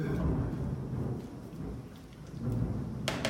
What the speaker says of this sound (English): we have a thunderstorm going on outside our house right now